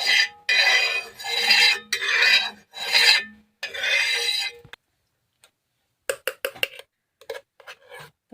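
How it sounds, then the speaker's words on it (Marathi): Oil being spread across a hot tawa griddle before making an omelette: several firm scraping, rasping strokes close up, then a pause and lighter quick taps and scrapes. "आता आपण तेल टाकून घेऊ तव्यावर"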